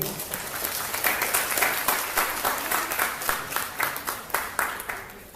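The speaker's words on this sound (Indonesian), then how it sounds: "Tepuk tangan sekali lagi" An audience at a journal-writing workshop applauds the speaker, a sustained patter of many hands. Several sharp, distinct claps stand out near the front, and the applause carries on steadily to the end.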